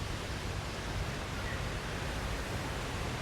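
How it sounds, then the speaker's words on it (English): A surf rider wave machine runs on Magaluf Beach in Majorca, giving a steady, broad rushing roar of water that holds constant and moderately distant with no talk. "they've got the surf rider, the surf machine open"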